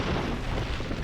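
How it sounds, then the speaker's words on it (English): A deep, rumbling explosion in a collapsing laboratory during a Call of Cthulhu tabletop game session, set on Pluto's icy mountains. It is a sustained, loud, dense roar that fills the whole second with no voices over it. "The explosion goes off."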